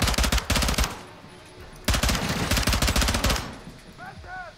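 Modern Warfare 2 game gunfire: two long bursts of rapid automatic fire separated by a short lull, loud and close, followed by a fainter electronic chirp.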